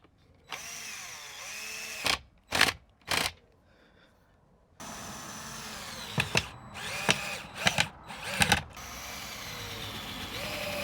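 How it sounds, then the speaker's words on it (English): A power drill drives screws into fascia trim on a shed, with short bursts of whirring separated by pauses and some handling knocks between. "And I'll put the screws in that'll pull it in."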